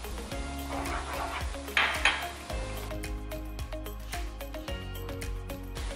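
Fresh mushrooms go into a pan of poutine gravy, with the clatter and scrape of a utensil against the pan and a low background hum, steady with a few sharper knocks.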